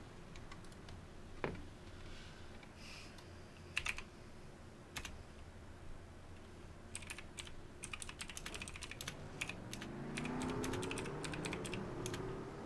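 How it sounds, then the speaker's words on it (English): Typing on a computer keyboard during an online Daytona truck race stream, sparse irregular key clicks and clacks, faint and close over a low background hum, with no talk. "I bet y'all can hear me typing"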